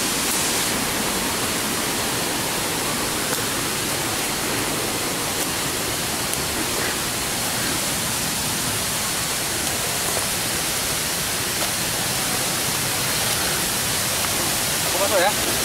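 The Trumon waterfall pours with a steady, even rushing roar of broadband noise that stays constant from start to finish.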